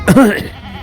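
A single goat bleats once at a goat market, loud and close, a short wavering cry that fades quickly.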